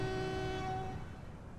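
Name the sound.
train running in Transport Fever video game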